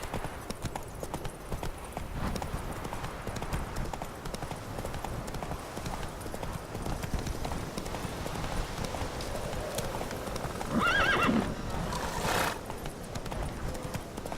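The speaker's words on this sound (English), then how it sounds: "Whoa! Come on, Roach" Horse hooves clip-clop steadily through the video game Witcher 3, and a horse whinnies briefly near the end, with faint game ambience underneath.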